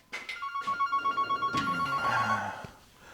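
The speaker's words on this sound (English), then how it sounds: "somebody's busy ringing the phone in the middle of me doing videoing" A landline telephone rings in a home workshop on a Saturday morning, a loud, close electronic warble in rapid pulses, followed by a lower tone and a faint knock as it stops.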